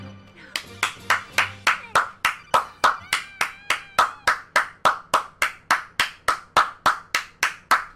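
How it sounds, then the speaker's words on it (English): Hands clap in a steady, evenly spaced rhythm, about two dozen sharp, close claps in a row, with no voices over them. "Applaud Kojima, everybody. Applaud."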